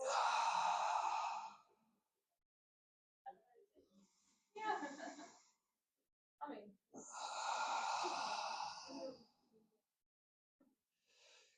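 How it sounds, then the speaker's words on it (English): Slow breathy exhales through the mouth during 4-to-8 guided breathing in a stretching session, two long close outbreaths separated by shorter breaths and small movements, with a voice speaking briefly. "and out for your mouth for 8."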